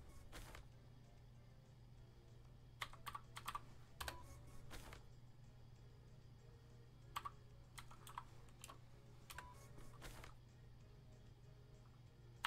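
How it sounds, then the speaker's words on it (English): Typing on a small computer keyboard without a number pad, in a Mavis Beacon typing exercise: quiet bursts of sharp key clicks in irregular clusters over a low steady hum, with pauses between runs. "So I'm just typing what I can."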